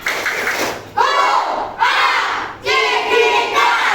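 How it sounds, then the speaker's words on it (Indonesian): A class of schoolchildren performs a rhythmic spirit clap, close and loud, in three or four surging bursts of group clapping and shouted chanting with brief pauses between. "Coba tepuk semangat."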